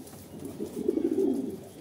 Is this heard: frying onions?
no